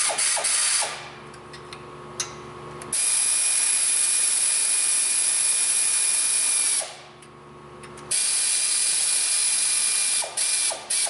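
Ratchet wrench tightening exhaust manifold bolts on a Toyota RAV4 2AZ-FE engine, rapid close clicking in short bursts, alternating with a steady louder hiss of background noise.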